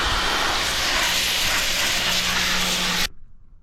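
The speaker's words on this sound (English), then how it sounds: "I'm gonna get this washed with the washer because there's a lot" A pressure washer blasts dirt and grease off the underside of a race vehicle, a loud, steady hissing spray that cuts off abruptly near the end, leaving faint background noise.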